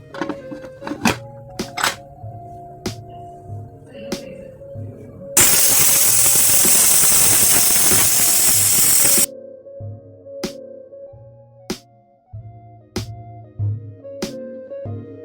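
A pressure cooker with egg biryani lets out one loud, continuous hissing whistle lasting about four seconds, set between quieter kitchen knocks and clinks.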